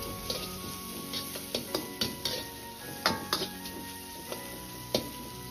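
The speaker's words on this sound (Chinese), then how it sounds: "再倒入切好的葱姜蒜煸炒出香味" Chopped scallion, ginger and garlic stir-fried in hot oil in a wok, with a continuous sizzle and repeated sharp clicks and scrapes of a spatula against the metal at an irregular rhythm, close up.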